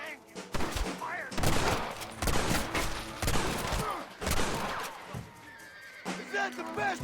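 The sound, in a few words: gunfire volley in Red Dead Redemption video game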